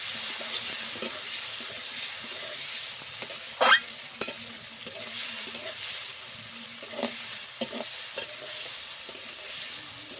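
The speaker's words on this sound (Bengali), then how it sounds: "টমেটোগুলো একটু ভেজে নেব।" Chopped tomatoes frying in oil: a moderate, steady sizzle with scattered ladle taps and scrapes, one sharper clatter early on, heard up close and without speech.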